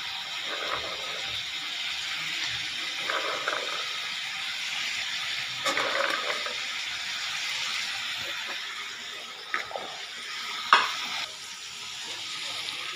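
Chicken kurma with peas sautéing in a pan: a soft, continuous sizzle and hiss with occasional stirring scrapes and light clicks, fairly quiet throughout.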